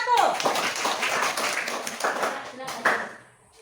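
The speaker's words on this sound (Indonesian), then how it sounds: "kita berikan tepuk tangan untuk kelompok 1" Classroom applause for a group of students after their presentation, with steady clapping from a small crowd that is fairly close, then fades toward the end.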